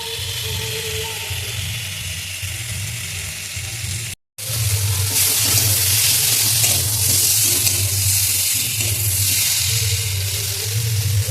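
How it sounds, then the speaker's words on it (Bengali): Water is poured into a pan of spiced shing fish curry. A steady sizzle breaks off for a moment, then returns as a loud, bright hiss and bubbling that keeps going. "এবার একটু জল দিয়ে দেবো এর মধ্যে"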